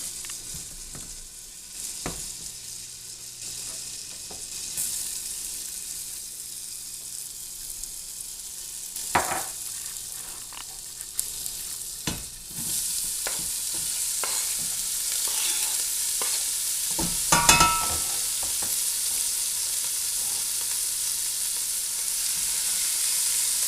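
Leeks, garlic and potatoes cook in melted butter in a pot over medium heat, giving a steady close sizzle broken by several scraping stirs of a spoon, with no talking.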